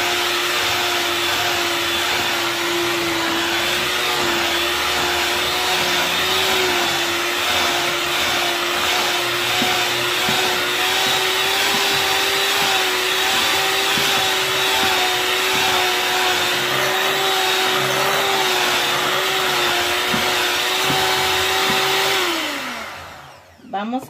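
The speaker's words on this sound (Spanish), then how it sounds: "Entonces seguimos batiendo" An electric mixer beats walnut frosting and filling in a bowl, giving a loud, steady whirring drone that runs unbroken for over twenty seconds before winding down at the end.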